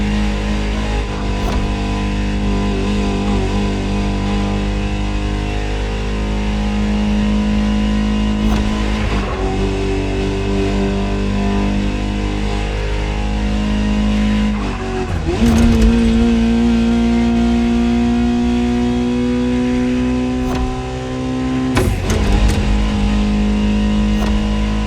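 A Ferrari supercar engine in The Crew Motorfest racing game holds a loud, steady roar, rising in pitch through each gear and dropping sharply at the shifts, continuous and close throughout.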